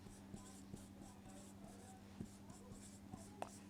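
Pen or chalk writing out a sentence by hand during a grammar lesson, heard as faint, soft scratches and light taps over quiet room noise.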